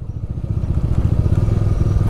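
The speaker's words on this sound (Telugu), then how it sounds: "ఇంజన్ బ్రేకింగ్ మీద వెళ్తున్నాం" Motorcycle descending from Khardung La in Ladakh on engine braking, with snowy conditions nearby. A steady close engine drone with some clatter runs throughout.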